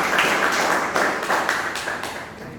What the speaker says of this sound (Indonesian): Silakan tepuk tangan untuk kelompok 5